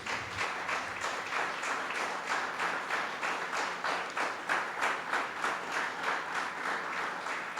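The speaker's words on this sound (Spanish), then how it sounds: "Dale un aplauso al Señor" A church congregation claps steadily and rhythmically for several seconds, a dense, fairly loud wash of applause with no voices standing out.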